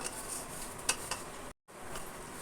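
Paneer pieces being mixed into a marinade, with soft wet stirring and light clinks of a utensil against a bowl, close and quiet, briefly dropping to silence partway through.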